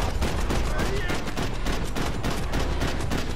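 Rapid bursts of video game gunfire crackle continuously in Max Payne 3, dense and loud like a firefight, with no clear pauses between shots.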